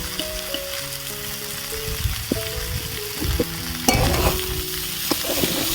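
Eggplant frying in a pan with tomato, ginger and green chili paste, a steady sizzle under repeated spoon scrapes and clinks against the pan, with a tonal hum in the background.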